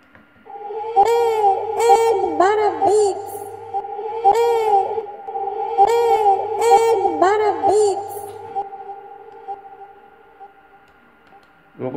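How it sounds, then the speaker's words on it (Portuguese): A beatmaker's voice tag runs through a delay effect, producing repeated processed vocal bursts with lingering tonal tails that echo in a steady rhythm, then trail off into a long fading tone. "delay também para dar aquele."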